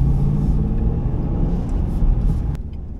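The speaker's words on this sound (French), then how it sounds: "Ah, le ronronnement du V8, c'est quelque chose" A 2005 Ford Mustang GT's V8 gives a low, continuous rumble on the move, a steady cabin drone that eases slightly near the end, with a brief click partway through.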